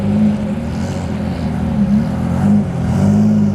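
A Porsche race car engine revs loudly nearby at a Porsche racing event, its tone rising and falling in several surges as it pulls away, with no voices present.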